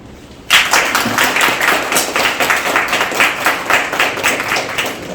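Audience at a venture forum bursts into close, lively applause after a brief quiet start, many hands clapping in a steady, slightly uneven patter that continues to the end.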